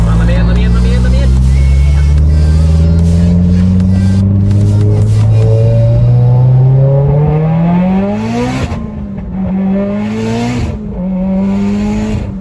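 Turbocharged Mitsubishi Evo X accelerating hard, loud engine revving with rising pitch through gears, shift drops near the end, close and dominant throughout.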